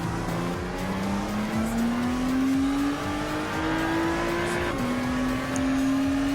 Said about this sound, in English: I know this sound is actually from the 787B rotary engine sound